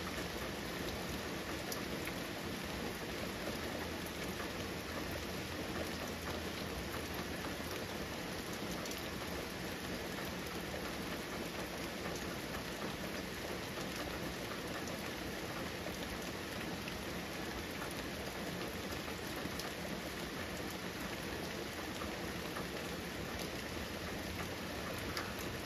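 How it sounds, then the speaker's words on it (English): Steady, dense rain patters on a van roof overhead, a continuous close drumming of drops with no voices. "Listen to the pitter patter on my van roof."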